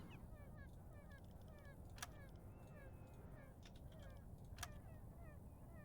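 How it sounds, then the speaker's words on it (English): Seagulls cry repeatedly in the naval game UBoat, their squawks far off and faint over a steady bed of wind and sea noise, with two sharp knocks heard in between. "Listen to the seagulls."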